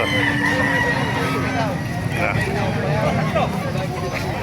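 Several chickens cluck and a rooster crows amid a busy outdoor chicken market yard in Calumpit, Bulacan, with a steady background of mixed noise.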